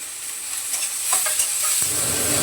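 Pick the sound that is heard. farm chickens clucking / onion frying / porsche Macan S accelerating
onion frying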